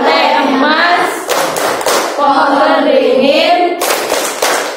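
A classroom group chants the Tepuk Pancasila in unison, its rhythmic hand claps marking the beat beneath loud, close voices.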